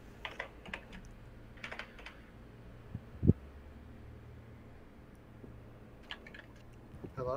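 Keys clatter on a computer keyboard in short, irregular bursts of clicks, near and fairly quiet, with a low background hum and one sharper knock midway.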